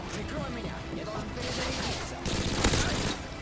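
A P90 submachine gun fires rapid bursts in Call of Duty: Modern Warfare II, with crackling automatic fire and a loud burst near the end mixed with game effects and a talking voice.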